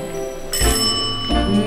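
Two bright rings from a push-button bell, one near the start and one near the end, stand out clearly over a faint background hum.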